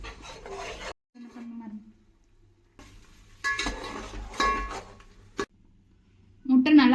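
Egg frying in a pan for chicken fried rice, with scraping stirs and clattering spoon strokes in short bursts separated by quiet pauses and a faint sizzle.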